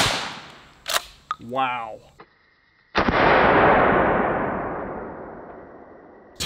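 A 12 gauge shotgun fires a blue rubber less-lethal slug outdoors: a short sharp sound and a brief voice exclamation come first, then one loud, close blast that decays in a long rolling echo.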